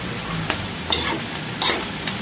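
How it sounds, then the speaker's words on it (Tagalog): Adobong isaw, chicken or pork intestines in adobo sauce, gets stirred in a pan, with spatula scrapes at regular intervals over a steady low sizzle, close and with no talking. "Haluin po natin."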